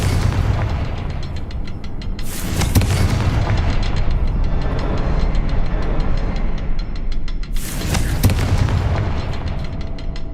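Confringo blasting spell from the Hogwarts Legacy video game, two loud booming explosions several seconds apart over a dense, continuous rumbling game soundscape.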